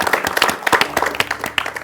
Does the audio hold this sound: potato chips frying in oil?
no